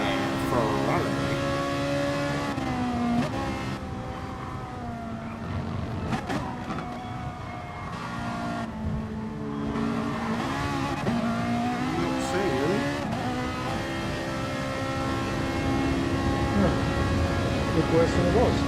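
Ferrari GT race car lapping the Bathurst circuit in a sim racing game, a continuous engine roar rising and falling through gear changes, with a commentator talking over it.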